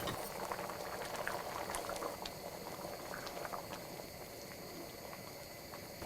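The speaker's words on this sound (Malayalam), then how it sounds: "ഇപ്പോൾ ഇത് നന്നായിട്ട് തിളച്ചിട്ടുണ്ട്" Liquid for egg biryani, with fried onion mixed in, boils in a pot, a dense, steady bubbling and rolling simmer throughout, close but quiet, with no voices.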